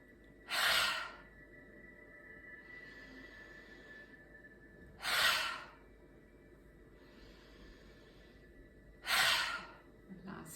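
Three deep mouth exhales in a breathing exercise for releasing shoulder tension, each a breathy whoosh about four seconds apart, close and alone in a quiet room.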